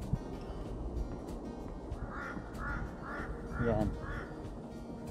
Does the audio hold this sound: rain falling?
no